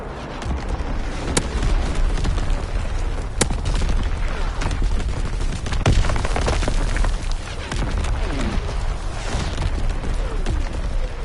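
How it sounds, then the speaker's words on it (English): Primary battery firing in Call of Duty WWII: a dense, sustained roar of heavy booms and rumbling blasts continues without pause, with sharp reports standing out above the wash. "Firing primary battery"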